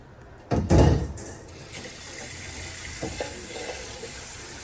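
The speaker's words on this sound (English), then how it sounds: "We're gonna dump this hot water out and run the cold water." Hot water is dumped from a cooking pot into a kitchen sink with a loud short splash, followed by a steady stream of cold tap water running continuously.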